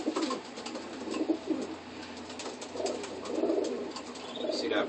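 Young pigeons held in a loft give soft, low cooing calls in short repeated bursts, close by and fairly quiet, with light rustling as the birds are handled.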